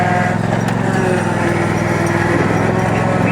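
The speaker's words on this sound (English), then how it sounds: "We're garden tractor pulling now." A small engine drones loud and steady up close, a constant throbbing hum as a garden tractor strains under load.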